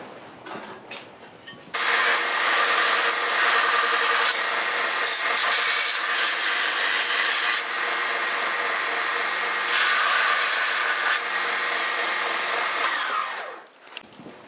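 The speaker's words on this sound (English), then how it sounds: "I'm going to go ahead and put it on the belt sander" A belt sander grinds down a lower fender patch panel for a Chevy C10, kicking in after a brief lead-in and running as a loud, steady abrasive rasp for about eleven seconds before winding down, with no talking.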